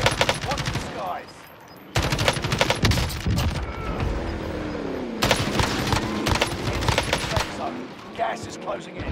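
A Type 100 fires on Rebirth Island in Call of Duty Warzone, with rapid sustained automatic bursts in long streams broken by a short pause, close and loud, while a voice talks over the shooting.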